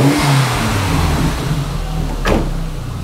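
An MK1 Caddy fitted with a 20V turbo engine revs up hard from idle, a loud close burst of throttle that rises sharply near the end and then drops back, with no talking.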